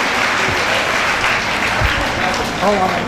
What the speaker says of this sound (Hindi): जरा सभी अतिथि वृंद के लिए एक बार जोरदार तालियां उनका स्वागत कर दीजिए।